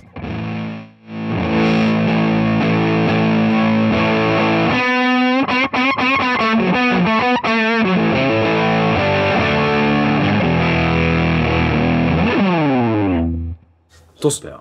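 Heavily distorted electric guitar through a tube fuzz pedal plays sustained chords and bends, thick and fuzzy, loud and close, with a sweeping wobble near the end.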